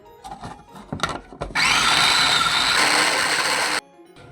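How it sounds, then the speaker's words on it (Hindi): One onion is coarsely chopped in an electric chopper: a few light knocks and clatters, then a loud whirring blade burst of about two seconds that stops abruptly, leaving silence. "अब मैंने प्याज को भी इसी के अंदर चॉप कर लेना मोटा मोटा।"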